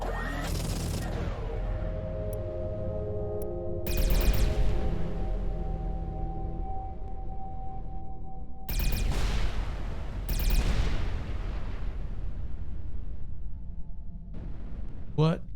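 Heavy weapon blasts boom out in bursts while a ship fires down a tunnel in the space game Everspace 2, with engine drone and a humming tone between shots.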